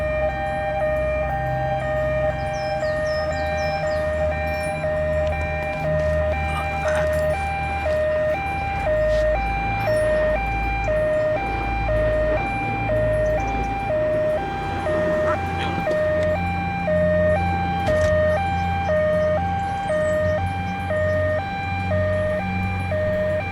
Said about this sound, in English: do you really have to leave the siren on the whole time you're dealing with the victim?